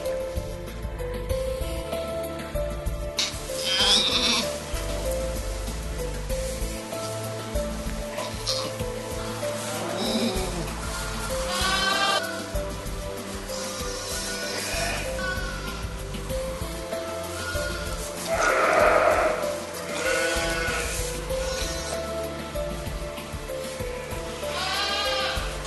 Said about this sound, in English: Lambs have been born thick and fast.